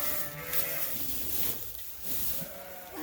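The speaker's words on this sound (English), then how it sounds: "and all the ewes are running around" Ewes bleating on a sheep farm during lambing, a few moderately loud calls rising over a low, busy farmyard background, with no talking.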